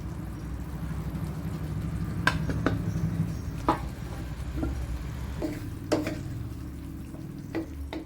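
Fried paneer, onion and capsicum stirred into a sizzling kadai masala, a low steady sizzle under a few sharp clinks of a spoon against the pan, close by and quiet.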